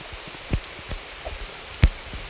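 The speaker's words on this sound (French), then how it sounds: "Non, il pleut." Steady rain in a forest survival video game patters in the background, with a few sharper drops or taps standing out now and then.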